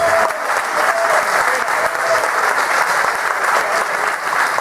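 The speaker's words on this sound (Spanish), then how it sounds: "nuestro crítico taurino José Antonio Zarza, que quiero que reciba un aplauso" Steady, dense audience applause for a bullfighting critic at a closing session of a conference, loud and sustained throughout with no pauses, a faint tonal murmur sitting underneath.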